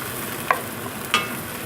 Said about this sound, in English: I'm gonna mix in the caramelized onion.